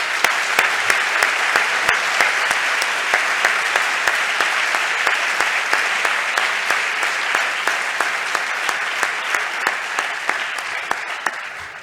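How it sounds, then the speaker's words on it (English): Large audience giving a loud, sustained round of applause for the ESOP team at a keynote panel, dense clapping continuing steadily for about twelve seconds and slowly easing off. "So can you give a big round of applause"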